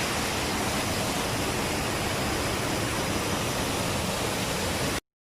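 Water pours steadily over a terraced water feature in a wild outdoor setting, a loud, unbroken broadband rush that holds at a constant level for about five seconds and then cuts off abruptly.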